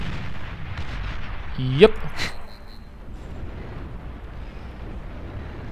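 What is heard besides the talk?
unstable fusion reactor exploding after being shot, video game Beyond All Reason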